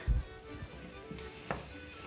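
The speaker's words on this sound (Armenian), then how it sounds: "հիմա բոված ալյուրից հետո ավելացնում ենք թթվասեր, խառնում ենք" Sour cream gets stirred into roasted flour in a pan, making quiet, brief scraping strokes over a faint sizzle, with a soft thump at the start and a couple of light clicks.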